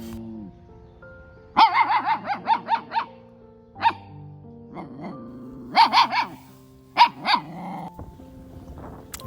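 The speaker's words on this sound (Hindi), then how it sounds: "दूसरा कुत्ता जो निकल रहा था उसे देख के देखिए भौंकने लगेगी" A dog recovering from parvovirus barks at a passing dog in several quick bursts of sharp yips and barks, with pauses between, close by and fairly loud, with a low growl underneath.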